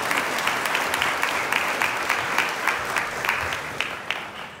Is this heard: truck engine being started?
no